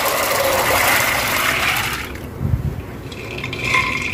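Water gushes steadily into a pot of soaked chickpeas for boiling, a loud close pour lasting about two seconds before cutting off into a few clattering kitchen knocks.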